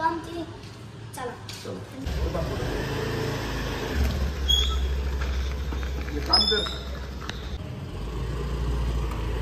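A car drives along a road with a steady low engine and tyre rumble throughout, while voices talk over it.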